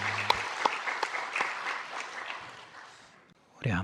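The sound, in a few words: church congregation applauding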